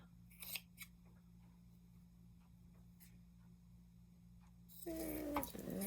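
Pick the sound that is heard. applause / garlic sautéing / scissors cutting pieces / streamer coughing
scissors cutting pieces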